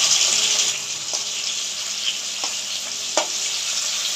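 Potatoes frying in oil just used for pointed gourd, a steady hissing sizzle with faint clicks and pops throughout, fairly close and unbroken by any voice.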